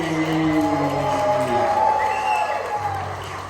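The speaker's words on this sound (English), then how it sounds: "started right with a big round of applause for your first comedian" A comedy club crowd in Chattanooga greets the first comedian with clapping and cheering, a loud sustained roar of mixed voices and hands at the early show, with a microphone hum running underneath.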